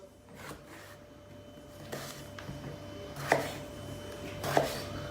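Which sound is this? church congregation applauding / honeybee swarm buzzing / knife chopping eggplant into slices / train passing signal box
knife chopping eggplant into slices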